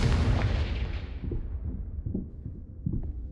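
Confringo blasting spell cast in Hogwarts Legacy: a series of booming, rumbling blasts, the first loudest, followed by several softer thumps recurring at roughly half-second to second intervals.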